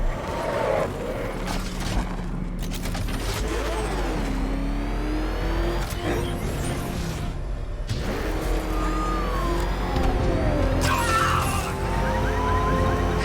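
Car engine in Batman Arkham Knight, loud and close, its pitch rising and falling as it revs, over a constant mechanical roar with clanks and whines throughout.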